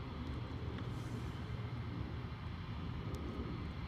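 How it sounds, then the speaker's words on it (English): A privately owned Boeing 737 comes in to land at a misty London Luton Airport, a faint, distant steady jet rumble and roar holding throughout without talk. "Here's our privately owned 737 coming in"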